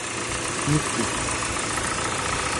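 A 2015 Hyundai Sonata LF with a 2.0-litre petrol engine idles just after starting, giving a steady, even hum with broadband mechanical noise that holds at a moderate level throughout.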